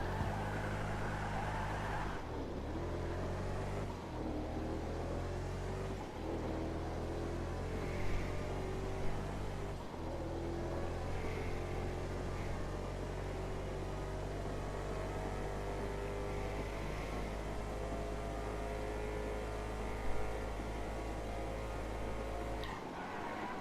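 Steady engine drone of an Albany Frankan Stange car in a video game, driving straight down a runway without double clutch, a constant close hum with small gear-shift dips and no talk over it.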